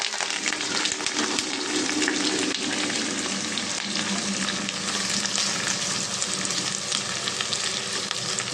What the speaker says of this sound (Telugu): ఫ్రై అవ్వాలండి బాగానే కొంచెం బ్రౌన్ కలర్ వచ్చే వరకు మనం ఫ్రై చేద్దాం ఫ్రెండ్స్